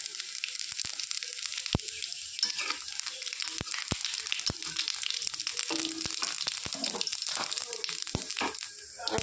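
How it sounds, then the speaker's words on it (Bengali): Whole cumin and bay leaves frying in hot mustard oil, a steady close sizzle with crackling pops throughout, under soft talk. "তো এখন তেলটা গরম হয়ে গেছে, তেজপাতা,"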